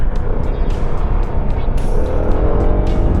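A QJ Motor Fortress 400 maxi scooter engine drones loudly and steadily while riding, with rushing wind noise and a few brief higher-pitched bursts.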